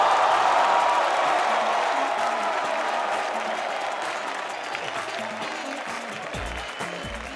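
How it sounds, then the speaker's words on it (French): Applause at a comedy show greets a comedy duo of performers, Décoté and Amélie. It starts strong and full, then gradually thins and fades across the stretch, with a few scattered audience sounds near the end. "Mesdames et messieurs, faites beaucoup d'applaudissements pour Décoté et Amélie."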